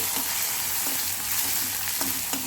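Small onions, cumin and curry leaves fry in oil in a pan for banana stem kootu. A continuous close sizzle runs throughout, with a few soft scrapes and taps from stirring.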